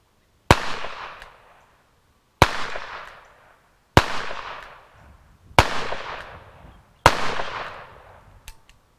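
Five sharp gunshots from old, neglected ammunition fired outdoors, spaced about one and a half seconds apart, each a loud crack with a long fading echo, no talking.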